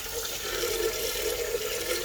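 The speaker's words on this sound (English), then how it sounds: "so we're gonna have to keep adding more water" Water runs and splashes steadily into a greasy pan being cleaned after an Easy-Off oven cleaner soak, a continuous close rushing pour with no talking.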